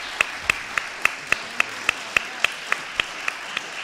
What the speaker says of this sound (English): I think they are deserving of a real round of applause